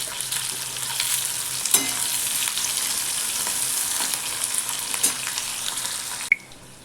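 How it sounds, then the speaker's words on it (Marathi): Garlic and green chillies frying in a pan, a dense bright sizzle with a few sharp crackles and stirring clinks, steady and close, cutting out abruptly near the end. "हा लसूण याच्या वर टाकायचा म्हणजे हा चांगला भाजला जाईल"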